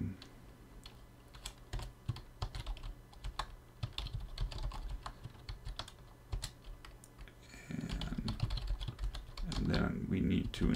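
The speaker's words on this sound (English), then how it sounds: "my keyboard is not behaving" Someone types on a computer keyboard while setting up a SolidRun HoneyComb desktop, a fast run of close, crisp key clicks with uneven rhythm, later joined by a louder rustling muffled handling noise.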